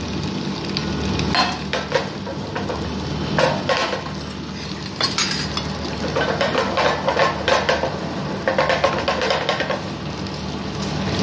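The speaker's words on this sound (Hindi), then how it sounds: "इसमें ये सारी प्याज क्या करेंगे सौते कर देंगे" Sliced onions sautéing in a pan for bhindi do pyaza: a continuous, close, crackling sizzle that swells in bursts as the onions are stirred, with faint utensil clinks and no speech.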